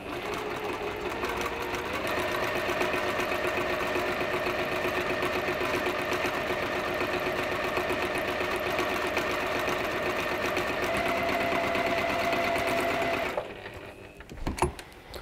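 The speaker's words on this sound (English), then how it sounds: "we're going to sew a 1/4 inch either side of each diagonal line on here" A domestic sewing machine stitches quarter-inch seams along diagonal lines on a quilt, a steady fast mechanical whirring and chatter running close and continuously for about thirteen seconds before stopping with a few handling clicks.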